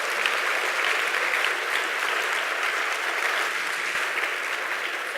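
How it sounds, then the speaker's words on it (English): A crowd applauds steadily after a panel discussion, dense clapping filling the whole stretch at an even, loud level without letting up. "Let's give them a round of applause"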